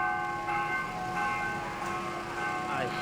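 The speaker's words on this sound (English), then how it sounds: "I hear the bell is ringing" A temple bell at Wat Tham Kuya Lam in Thailand rings with a sustained, sharply pitched metallic tone whose overtones linger throughout, struck again a few times over a steady background.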